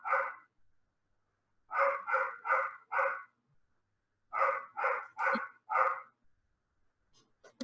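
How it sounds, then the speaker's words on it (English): An excitable, unneutered one-year-old puppy barks at someone at the front door, two bursts of four loud sharp barks each separated by a pause, close to the microphone, with a faint voice at the very end. "Can you hear the dog?"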